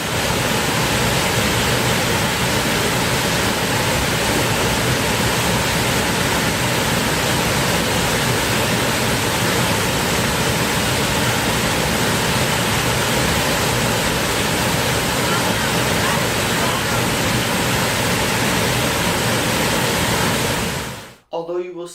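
A waterfall in the Great Smoky Mountains National Park rushes in a loud, unbroken broadband roar that holds steady, close and dense, before cutting off abruptly at the end.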